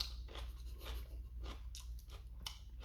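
Close, quiet crunching and wet chewing of spicy kimchi, a few crisp bites followed by steady mastication with no talk.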